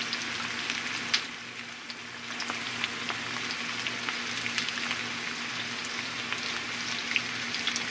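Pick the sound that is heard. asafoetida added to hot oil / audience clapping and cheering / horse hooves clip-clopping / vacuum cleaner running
asafoetida added to hot oil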